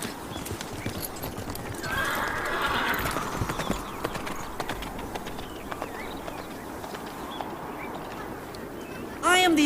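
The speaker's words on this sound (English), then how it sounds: "Hurry! Take my horse!" A horse clip-clops along with hooves pounding and neighs, over a busy outdoor scene, with a sharp whinny near the end and voices shouting around it.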